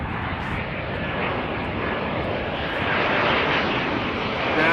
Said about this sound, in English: BA City Flyer arriving from London City